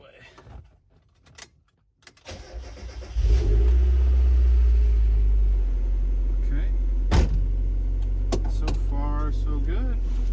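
A Mazda Miata, an NA model with a newly fitted special edition NB steering wheel, is started up. Quiet shuffling comes first, then the engine catches and settles into a loud, steady idle, with a few clicks over it.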